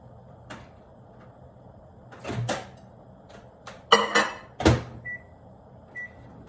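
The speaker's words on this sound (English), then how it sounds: "I'm gonna heat it up just real quick in the microwave" A kitchen microwave being used to reheat leftover rice: a few clunks as the door shuts and buttons are pressed, then two short beeps. Quiet room, no talking.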